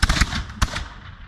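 Flintlock muskets fired in a volley at a French and Indian War reenactment at Fort Dobbs, North Carolina: a loud, ragged burst of overlapping cracks, a second sharp report moments later, then a fading rumble.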